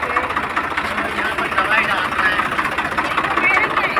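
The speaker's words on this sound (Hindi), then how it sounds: "ट्रैक्टर की आवाज़ आ रही होगी" A tractor engine runs steadily close by on farm fields, a loud continuous rumbling idle with a knocking throb that holds unchanged throughout.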